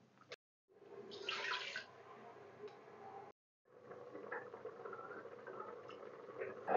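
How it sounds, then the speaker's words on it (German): Tap water runs into a frying pan as it is briefly rinsed out while cooking creamy veal goulash, a steady near splashing broken by two short pauses where the flow stops. "Die Pfanne spüle ich nochmal kurz mit Wasser aus."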